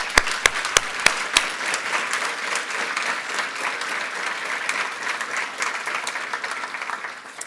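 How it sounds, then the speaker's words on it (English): Conference audience at a Nobel Peace event applauds human rights defenders, opening with a few sharp individual claps before settling into a continuous, even wash of warm clapping. "Let us give them a warm applause."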